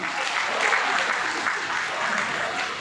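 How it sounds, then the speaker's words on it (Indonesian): Steady, dense applause from an event audience honoring a national first-place wushu champion, a continuous even wash of clapping throughout with no pauses. "Boleh dong tepuk tangan kembali"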